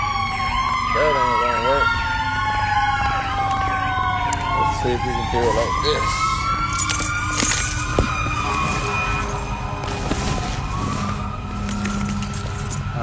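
An ambulance siren wails outside, its rising and falling tones sweeping steadily and loudly over street noise, while someone talks over it throughout.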